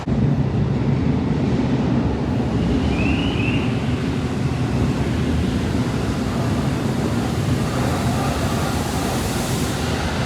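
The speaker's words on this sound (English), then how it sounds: "why do I feel the wind blowing through this much?" Steady, loud wind buffets the microphone underground, a constant broadband roar with no pauses, like a strong gust sweeping through an open space.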